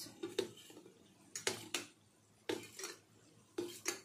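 Dal seasoned with salt and turmeric is mixed in a pot, giving quiet, irregular metallic clinks and taps of a spoon against the vessel in small clusters, with no voices.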